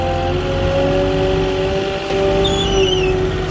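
A Moffett truck-mounted forklift's engine runs steadily and loudly up close as the machine climbs a curb one wheel at a time during a wall block delivery, with a high whine rising briefly near the end.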